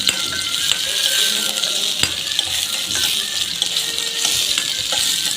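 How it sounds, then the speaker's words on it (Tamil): Mustard seeds, onion and dried chillies fry in a hot pan for drumstick-leaf sambar, giving a steady dense sizzle with small crackles and pops throughout, close and fairly loud with no talking. "இப்போ பாருங்கள், நல்லா பொரிஞ்சிடுச்சு. வெங்காயம் எல்லாமே நல்லா வதங்கிடுச்சு."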